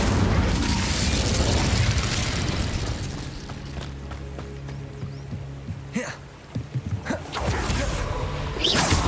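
Incendio fire spell cast in the video game Hogwarts Legacy: a loud, sustained roaring burst of flame and booming impacts, easing off midway before sharp crackling pops and another surge of fire near the end.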